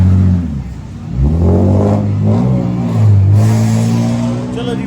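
A car's engine revs and climbs in pitch as it pulls away after new tyres are fitted, a steady mid-range drone rising and falling over several seconds, fairly close and loud.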